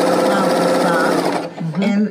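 L890 serger sewing machine stitching fabric, a loud close continuous motor whir that stops after about a second and a half, followed by a voice speaking briefly.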